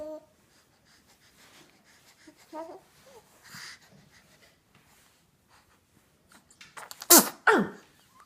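A baby gives soft coos and small breathy sounds, then lets out a sharp, close sneeze near the end, followed by a short second burst.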